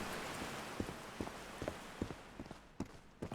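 Rain falling in the video game Call of the Sea, a dense broadband hiss of steady rainfall with soft, regular thuds of footsteps passing through it, no talk.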